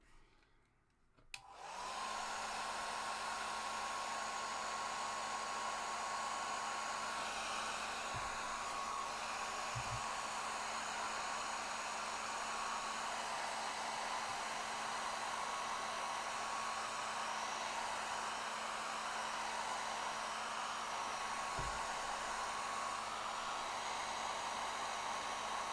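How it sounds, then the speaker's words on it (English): A hair dryer switches on and blows with a steady, loud whooshing roar and a constant motor hum throughout, with a couple of faint clicks. "Getting the old hairdryer out. Right, hairdryer noise."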